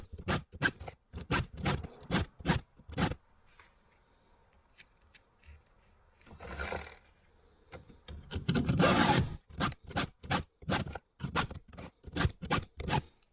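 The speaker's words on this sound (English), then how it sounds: "So I'll go ahead and just start sharpening this, and we'll get back to you." A hand file rasps across the teeth of a chainsaw chain in quick, regular close strokes, pausing briefly for a few softer scraping sounds before the rhythmic filing resumes.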